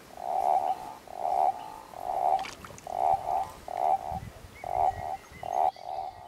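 Common toads call from flooded dry-stone sinkholes in Italy's Montenero area, a series of about eight short trilling bursts in steady rhythm, fairly close and clear over a quiet background.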